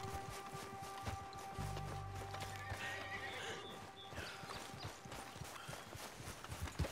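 A horse in Red Dead Redemption 2 gives a clear whinny amid clip-clopping hooves, fairly close, over a low game-like ambient backdrop.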